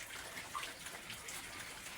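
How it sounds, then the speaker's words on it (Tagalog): Water pours into a pigs' drinking trough with a steady splashing, gushing wash that stays constant and fairly soft throughout, with no talk. "Lagyan na natin ng tubig ang lagayan nila ng tubig mga kababoy"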